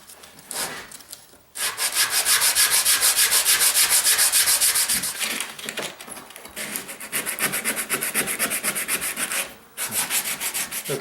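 A wooden cheese slicer is scrubbed clean of wax in long, loud rubbing strokes, a rhythmic scratchy sanding sound with brief pauses between passes, heard alone without talk.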